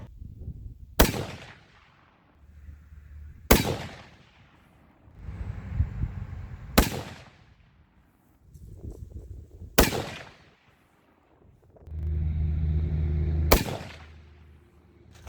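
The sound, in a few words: rifle shots fired with H1000 powder loads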